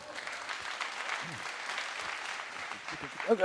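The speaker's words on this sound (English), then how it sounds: "Big applause." Brief round of applause from a conference audience, moderately loud and steady, with a louder burst of claps near the end.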